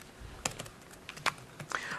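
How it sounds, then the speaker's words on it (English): Someone types on a computer keyboard during a software development conference session, producing scattered, irregular key clicks that are fairly faint, with a few sharper taps standing out. "You have to finish typing."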